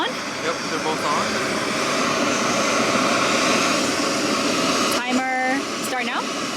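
A JetBoil Flash and an MSR Pocket Rocket camping stove burn side by side while boiling water outdoors, making a steady loud roaring hiss throughout, with brief voices near the end.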